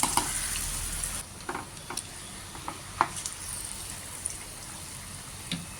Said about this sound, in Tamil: ஒவ்வொரு மீனாக எடுத்து அதில் போட்டு பொரிக்கலாங்க